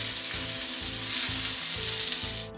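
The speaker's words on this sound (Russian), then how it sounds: "На сковородку подливаем масло. Ждем, пока нагреется, и обжариваем наши пока еще котлеты." Steady, dense sizzling of meat patties frying in hot oil in a pan, close and continuous, with a low rhythmic hum underneath and no voices.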